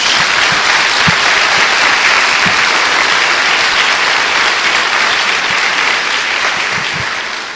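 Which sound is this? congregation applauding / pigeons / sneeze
congregation applauding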